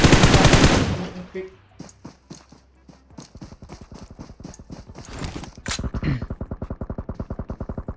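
Gunfire in PUBG Mobile, first a loud burst, then sparse single shots and fast rapid-fire bursts near the end, with voices talking over parts of it.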